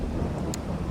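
Steady rain with a low thunder rumble in Farming Simulator 22, a continuous dense wash of noise with a brief crackle partway through.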